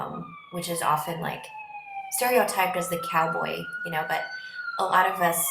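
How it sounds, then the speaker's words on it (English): An emergency vehicle siren wails steadily as it travels down a busy thoroughfare in Madison, its rising tone running continuously and fairly loud beneath a person speaking close by. "sorry about my siren"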